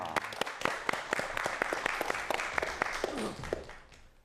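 A lecture audience claps for a speaker on 3D and 4D printing, with distinct individual claps in an uneven rhythm, moderately near, fading toward the end.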